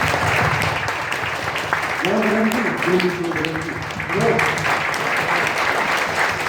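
A church congregation applauds at a Sunday worship service, steady dense clapping running throughout, with a voice speaking over it partway through.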